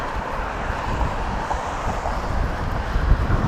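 Steady wind roars and buffets against a microphone during a highway road trip, a continuous low rumble with no pauses.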